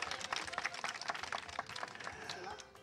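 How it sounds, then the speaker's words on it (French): Studio audience on a television cinema quiz show clapping for a contestant, a brisk crowded patter mixed with voices that fades toward the end. "Il faut l'applaudir."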